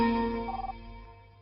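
Telephone ringing for an incoming call in a Hindi-dubbed South Indian film: a single close, loud electronic ring tone that warbles briefly and then fades out, with no voices.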